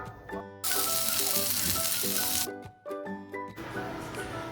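Vegetables sizzle loudly in saved stock fat in a pan, bursts of frying cut in and out between stretches of pan noise and faint background music, with no talking.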